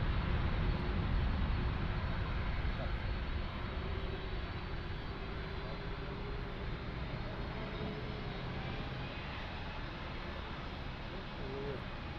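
Delta heavy airliner, an Airbus A330, lining up on runway 02 at Lisbon Airport, giving a steady, continuous broadband jet rumble at moderate distance that stays even throughout with no talk.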